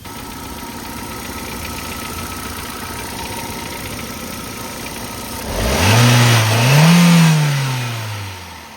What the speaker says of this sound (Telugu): ఒకసారి ఇంజిన్ స్టార్ట్ చేసి చూస్తాను